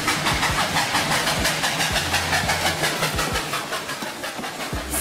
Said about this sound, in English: Steam locomotive train.